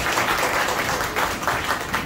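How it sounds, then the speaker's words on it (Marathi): A crowd at a school felicitation for a headmaster applauds loudly: dense, continuous clapping that swells in brief waves, heard from among the audience. "साहेबांसाठी एकदा जोरदार टाळ्या झाल्या पाहिजेत"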